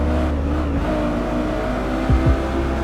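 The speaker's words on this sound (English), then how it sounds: "When you race, the engine sounds are different based on which of the 6 camera views you choose" A racing car engine in the video game Driveclub roars steadily at high revs, with brief gear shifts near the end, loud and continuous with no voices.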